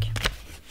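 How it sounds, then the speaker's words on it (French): A 5 euro banknote is handled close up, giving two quick papery rustles near the start, then a quieter soft crinkle and near silence. "mon billet de 5"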